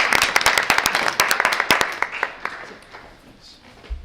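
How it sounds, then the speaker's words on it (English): Audience applause at a Caldwell-West Caldwell Board of Education public meeting: a burst of sharp, fairly close hand claps that thins out and fades after about two seconds. "You can applaud."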